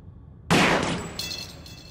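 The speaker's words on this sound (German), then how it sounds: "Ein perfekter Schuss." A single sharp gunshot in the video game Black Mirror blasts a padlock open after a quiet moment, then rings out with a faint metallic clink as it fades.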